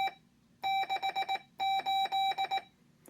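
A steady electronic Morse code practice tone at 680 hertz keys out short and long beeps in two quick bursts of characters, clear and alone against a quiet background.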